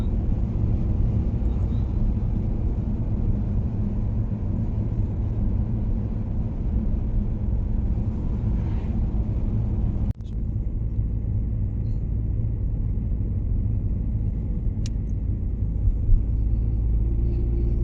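A car heard from inside as it drives toward the mountains near Ylläs in Finland, a steady, loud low rumble of engine and road noise with one sharp knock partway through.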